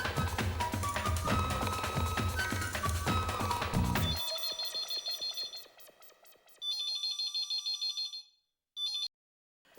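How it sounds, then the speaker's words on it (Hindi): A telephone rings during an outgoing call, heard as repeated electronic ring bursts with short gaps between them after a stretch of louder background sound. "अभी नाटू काका को फोन करके बोल, मेरा मोबाइल कहाँ गया?"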